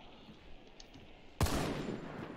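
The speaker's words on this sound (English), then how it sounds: "Shot a red barrel, don't go over that way." A single sharp gunshot in Hunt: Showdown bursts out loud and sudden, followed by a long rumbling echo that fades slowly, over a quiet ambient background.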